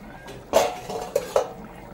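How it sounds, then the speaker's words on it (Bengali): A metal lid comes off a pot of thin mutton curry with potatoes, a brief scrape followed by a couple of sharp metallic clinks, close by and fairly quiet. "ঢাকাটা আবার খুলে নেবো"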